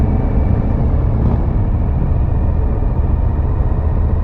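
Steady, close engine drone of a 2022 Suzuki V-Strom 1050XT adventure motorcycle cruising with the clutch fully out, a continuous low rumble with wind noise and no pauses, no voices.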